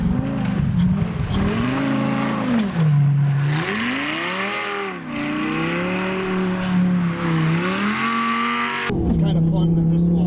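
An all-wheel-drive Lamborghini with traction control off spins donuts, its engine wailing up and down in repeated revving swells with tyre squeal, loud and close, then an abrupt cut near the end.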